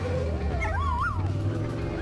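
A dog yelps and whines in a rising, wavering cry beside a Portuguese road, heard over the low steady rumble of a Honda CX cafe racer motorcycle engine.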